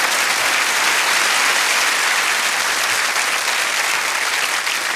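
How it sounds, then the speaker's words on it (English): A live studio audience at a hypnotism stage show claps in steady, dense applause, loud and continuous for the full length with no break. "Let's give him a big round of applause"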